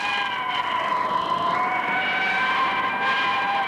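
A siren from 1962 wails in long, sustained tones that slowly rise and fall. It sounds loud and close over a steady roar of background noise.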